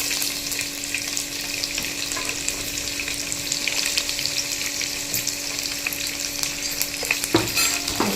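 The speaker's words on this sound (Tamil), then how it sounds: "இப்போ வந்து வெங்காயத்தை ஆட் பண்ணிக்கலாம்." Chopped onion frying steadily in a pan for egg rice, a constant close crackling sizzle throughout with a brief stir or clatter near the end, no voices.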